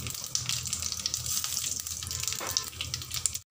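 Mustard seeds and curry leaves sizzle and crackle in hot oil for Maharashtrian batata vada, a bright continuous frying hiss with small pops throughout, close and fairly loud, no voices.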